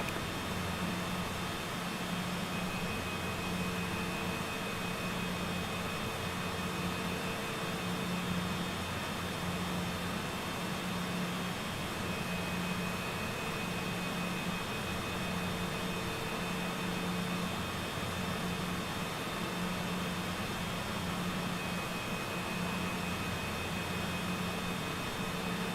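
Steady, unbroken jet engine roar during a takeoff run in Microsoft Flight Simulator 2020, a dense broadband rush with faint tonal whine, constant in level and heard alone with no talk.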